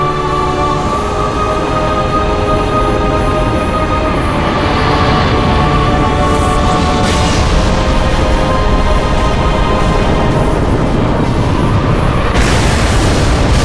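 Heavy, sustained rumbling barrage of MAC rounds fired from UNSC Frigate 318 in atmosphere in Halo Reach, a dense continuous roar with layered booms and a rising blast near the end, no voices.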